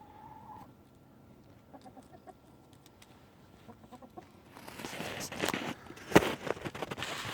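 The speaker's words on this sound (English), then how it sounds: "Yeah, so there's 3 hens inside now, laying eggs, obviously." Hens in a chicken coop give soft, scattered clucks and low murmurs, fairly faint at first, then a louder burst of rustling and movement close by.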